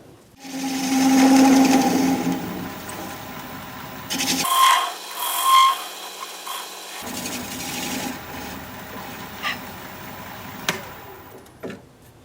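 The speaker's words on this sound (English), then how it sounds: "I guess I just want to cut that little nub off of there" A wood lathe spins while a turning tool cuts off a small nub on a wooden piece, giving a loud whirring scrape that drops out abruptly, then softer scrapes and taps follow.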